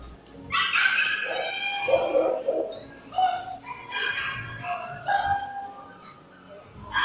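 Dog at an obedience demonstration at a fair, giving repeated yips, barks and whimpering whines in uneven bursts, fairly close, with faint background voices.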